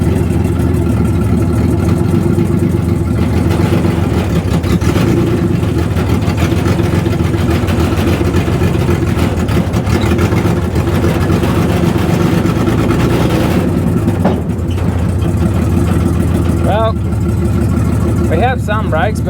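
A Barra-engined car runs steadily and loudly throughout, its deep, continuous engine drone filling the whole stretch with no pauses, while people talk over it.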